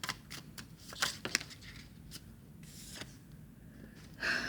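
Tarot cards are shuffled in quick papery riffles and soft slaps, close and fairly quiet, with a brief louder rustle at the end.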